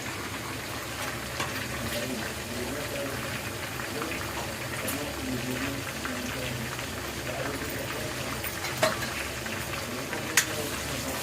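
Tomatoes for a village-style curry fry in a pan with a steady, dense sizzle and crackle that holds evenly throughout, punctuated by a couple of sharp pops or utensil knocks near the end.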